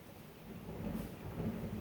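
Distant thunder from a storm outside rolls as a soft low rumble, swelling faintly over a couple of seconds beneath a muffled indoor hush.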